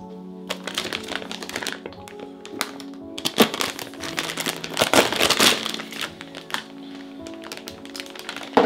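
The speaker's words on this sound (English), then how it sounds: "Go ahead and I'm going to cut that open." Package from a Razer mystery box being cut open, with dense crinkling of plastic and cardboard, sharp taps and cracks, close and busy throughout, with no clear talk.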